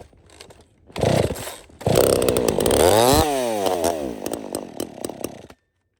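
A chainsaw being started indoors in a spare room, choke on, pulled over and catching, then running with revving that rises and falls before cutting off abruptly near the end.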